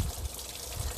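Water pours over the front of an R33 GTR onto a plug near the radiator, making a steady, close, broadband splash and gush for about a second with low thumps at the start and end.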